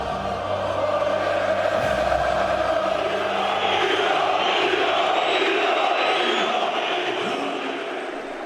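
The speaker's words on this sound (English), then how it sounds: "Inside the ground, the crowd were coming to the boil." A dense football crowd chants and roars inside the ground at a Croatia versus Serbia match, a loud continuous wall of voices that swells slightly and stays steady throughout.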